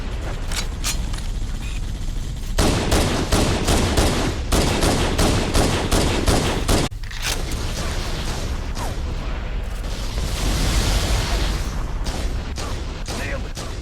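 Sustained gunfire in the Halo video game: dense bursts of automatic rifle fire and heavier blasts, loud and close, pausing briefly before resuming, with a constant battle din beneath.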